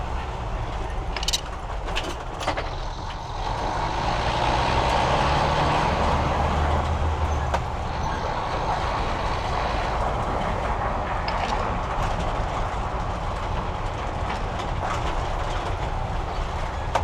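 A 1986 Jeep CJ7 base model drives along, a loud continuous rumble of engine and road noise with rattling clatter and occasional sharp knocks, steady throughout with no talking.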